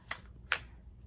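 Cards shuffled by hand, two quick crisp riffling bursts close up, alone and without talk.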